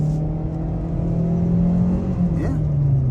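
A 2023 Kia Seltos LX AWD accelerates from inside the cabin, its engine drone rising steadily in pitch as speed builds, with road noise underneath and a short vocal sound near the end.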